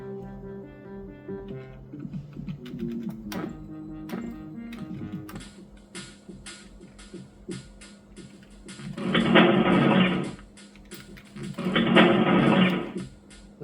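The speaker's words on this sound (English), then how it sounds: "The sound effects seem alright." Emulated Wolfenstein 3D sound effects play on an eMachines eTower 466id PC: a run of short tones and clicks, then two loud, noisy bursts about three seconds apart, with no talk.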